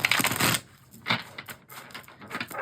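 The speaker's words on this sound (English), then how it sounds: "I'm going to give this one more shuffle." A tarot card deck gets shuffled close up. Quick papery riffles and clacks come in short bursts with brief pauses between them, and no voice is heard.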